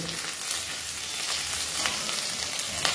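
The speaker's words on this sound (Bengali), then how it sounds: "লাল লাল করে আদাটাকে কষে নেব। যতক্ষণ না আদার কাঁচা গন্ধটা চলে যায় ততক্ষণ একটু ভালো করে ভেজে নেব।" Ginger being fried in a pan, cooked until reddish, gives a steady close sizzle with faint stirring scrapes throughout, no voices.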